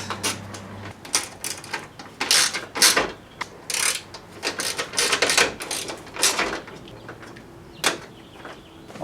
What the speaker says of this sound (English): now we just tighten down all the bolts and the nuts